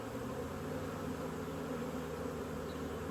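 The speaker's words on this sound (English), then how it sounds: "The bees at the entrance are all fanning to let everybody know this is the right location" A dense, constant buzz of many honeybees from a swarm fanning at the hive entrance, close and steady with no pauses.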